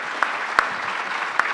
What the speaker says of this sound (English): can we have a last big round of applause for these extraordinary authors?